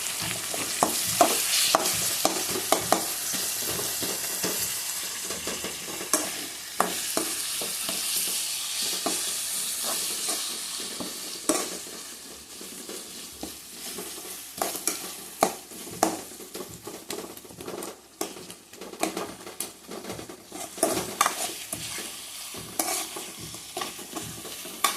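Two large chopped tomatoes fry in a pan for a chicken curry, with a dense crackling sizzle and repeated close scraping and clinking of a spoon as they are stirred, loud and uninterrupted, with no voices.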